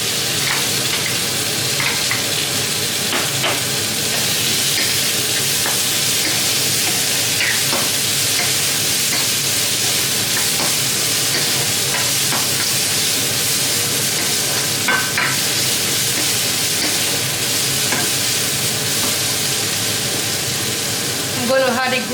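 Carrots sizzle loudly in a pan of Nigerian fried rice while being stirred, a dense, steady hiss with scraping stirs throughout, close and continuous.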